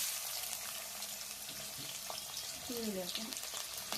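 Fenugreek seeds frying in hot oil at the start of a Mangalore-style fish curry, a soft steady sizzle low in the mix, with brief utensil clinks and a faint voice speaking over it.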